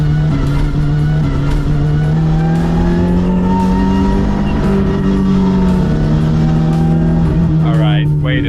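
Mazda MX-5 drifting at close range, its engine held at high revs with steady droning harmonics and tire squeal rising near the end, while people talk over the loud noise.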